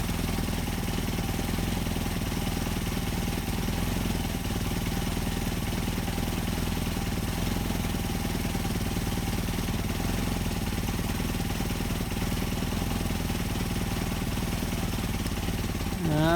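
A Mercedes-Benz 190SL engine with Solex carburetors idles steadily up close, a low, even rumble that holds constant throughout.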